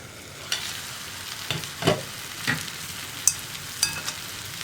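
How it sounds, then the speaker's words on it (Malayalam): Onions frying in a pan are stirred, with a steady close sizzle and several distinct spatula scrapes and knocks spaced a second or so apart. "ഇതിനിടയ്ക്ക് നമ്മുടെ സവോള നമുക്കൊന്ന് ഇളക്കി കൊടുക്കാം."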